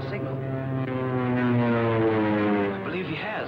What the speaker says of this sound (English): There's a scout plane.